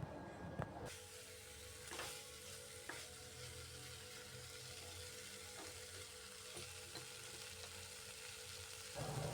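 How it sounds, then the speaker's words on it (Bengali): Cauliflower and potatoes stir-fry with spices in a pan, a steady close sizzle running throughout with occasional spoon scrapes and clinks. "এই ফুলকপি আলু দিয়ে ভালো করে মশলার সাথে কষাবো।"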